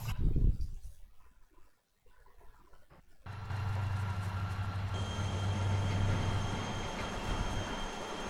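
A train gets under way on the Carrabassett Valley Railroad in a railroad video game. A loud burst and brief near-silence give way to a steady rumbling run with a sustained low drone, continuous and close, with no talking.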